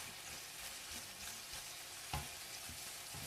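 Rice being stir-fried in a hot pan for Thai pineapple fried rice, a continuous close sizzle with repeated scraping and stirring strokes and one sharper knock, no voices.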